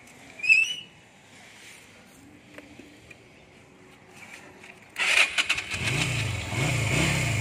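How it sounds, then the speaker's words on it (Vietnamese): Quiet background gives way to a Yamaha Virago 250 motorbike engine firing up, then revving in a few rising and falling bursts, close by. "Để mình nổ cái máy lên nha anh em nghe nè."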